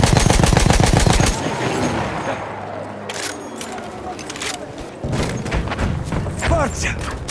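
Rapid machine gun fire in Battlefield 1 on the Monte Grappa map from a Hotchkiss or Benet-Mercie M1909: a loud, close, evenly spaced burst, a pause filled with battle noise, then more shots amid shouting voices.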